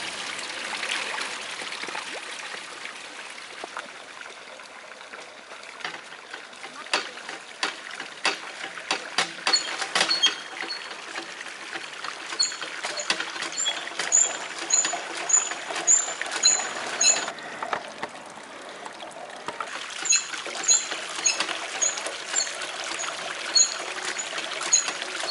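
Water and sand drain out of a 3D printed sluice outdoors on a playground, a steady trickling pour with bursts of gurgling and splashing that grow busier toward the end.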